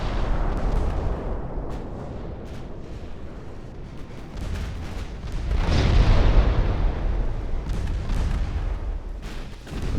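Heavy naval guns firing in Ultimate Admiral Dreadnoughts, a dense rumbling barrage of deep booms and distant blasts rolling on continuously, with a louder swell in the middle.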